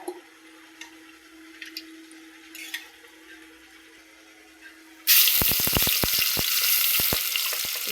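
Masala for mutton curry hitting hot oil and bursting into a loud, continuous close sizzle with spitting crackles, after a stretch of quiet low background noise.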